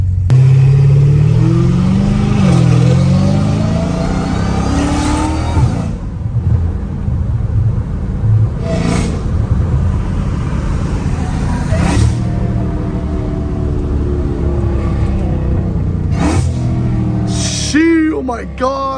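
A catless Dodge Challenger Hellcat Redeye at night roars loudly and close, its engine revving hard and dropping through rapid downshifts with sharp blips, crackles and pops near the end, a rumbling exhaust throughout.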